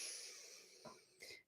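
A deep inhale during a guided breathing meditation, heard as a soft airy rush of breath followed by two brief puffs. It is faint and close, with no talking.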